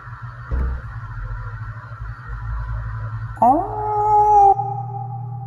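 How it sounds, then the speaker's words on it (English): Jupiter the dog lets out a sustained, wavering howl lasting about a second, close and fairly loud, over a steady low background hum with faint murmuring beforehand. "Jupiter also loves to howl"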